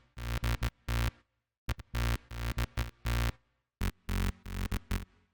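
A square-wave bass synth built in Ableton's Analog plays a mid-range bass line of short, punchy notes in clustered bursts, separated by brief silences, loud and alone with no voices.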